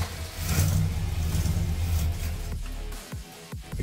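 A 1967 Dodge Dart V8 engine, being converted from a 2-barrel to a 4-barrel carburetor, runs on a test with a steady, rough low rumble that drops off and sputters near the end.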